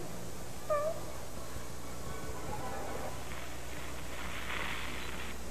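A cat gives a single short meow early on, set against a steady background hum and some faint rustling.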